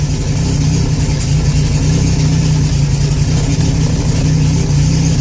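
A car engine tuned for E85 fuel idles steadily and loudly up close at just over 900 RPM, a constant low rumble with no speech.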